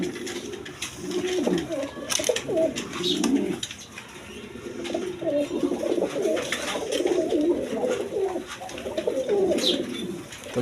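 Big-sized pigeons of coloured Rajgola and other breeds coo repeatedly, their low, throaty, overlapping calls close by and continuous across the whole stretch.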